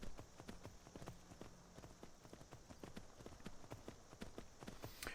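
Horse hooves clip-clop at a quick, steady gallop on a road in the video game Skyrim, a continuous run of rhythmic thuds at moderate volume with no talk over them.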